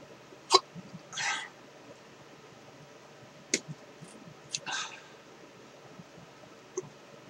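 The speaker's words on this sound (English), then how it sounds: "here come the hiccups" Hiccups from a person after eating Chocolate Bhutlah and Red 7 Pot chili pepper powder: a few short, sharp, isolated spasms spaced seconds apart against a quiet room, with no talking.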